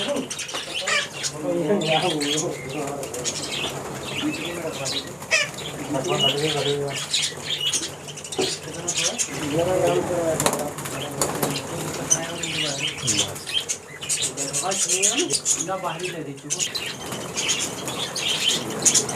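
Flocks of birds, pigeons and doves among them, flap their wings and chirp and coo continuously near a feeding spot with water, while people talk intermittently nearby.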